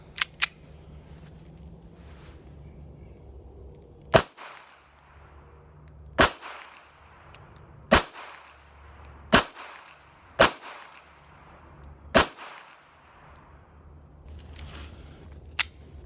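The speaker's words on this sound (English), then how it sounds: "so we're gonna get to shooting" A Ruger LCP 2 .380 subcompact pistol fires about ten sharp, loud single shots at an uneven pace, with a few seconds between most and a quick pair at the start.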